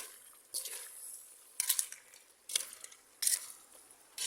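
Goat stew (humbang kambing) is stirred in a pot in four separate scraping, sizzling bursts, each followed by a quieter simmer.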